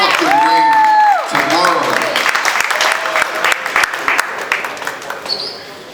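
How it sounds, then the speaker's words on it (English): Audience at a boxing press conference for a celebrity bout bursts into loud, sustained applause, with cheers, whoops and a rising whistle mixed into the clapping, which fades slightly over six seconds. "just give them a round of applause"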